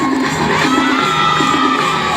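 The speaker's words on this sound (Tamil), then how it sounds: "கைத்தட்டி உற்சாகப்படுத்துங்கள்" A crowd cheers and shouts with excited children's voices, a dense and loud wash of noise that carries on without a break.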